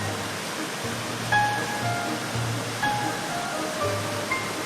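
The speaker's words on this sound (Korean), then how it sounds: "굉음과 거친 물바람을 맞으며" Roaring waterfall pouring over travertine walls of limestone, water and moss in Croatia, a constant loud broadband rush close by, with faint tonal music underneath.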